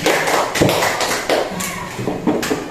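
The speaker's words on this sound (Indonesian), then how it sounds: "Tepuk tangan untuk kita semua." Hands clapping in unison during a morning class greeting, a group's repeated claps arriving in bursts with a few taps and thuds, fairly loud and close.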